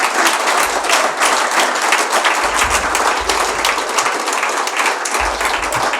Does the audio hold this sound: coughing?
no